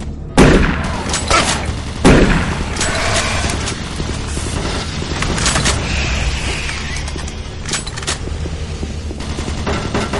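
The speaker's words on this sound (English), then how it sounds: "Warning, automated turret guns online." Automated turret guns fire in the DOOM 3 video game: sharp, rapid gunshot bursts crack in irregular volleys over a steady mechanical background, loud and close throughout.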